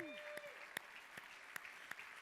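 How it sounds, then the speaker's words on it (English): Faint, distant applause from a gala audience, with scattered claps popping out over a soft wash of clapping and a steady tonal hum. "let's give the entire crowd a big round of applause for this wonderful giving moment"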